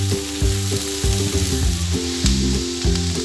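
Tomato and corn sizzling in a pan as they are stirred, a loud close frying crackle with rhythmic scraping strokes, no voices.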